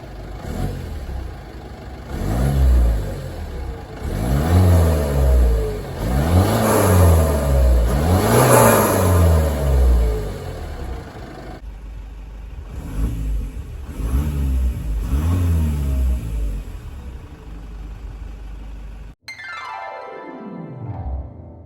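A Mitsubishi Delica D5 engine and exhaust rev up repeatedly in rising and falling bursts, fairly loud and close, then settles to a steady idle before a brief tonal sweep at the end; no voices.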